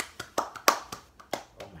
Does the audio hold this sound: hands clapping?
yes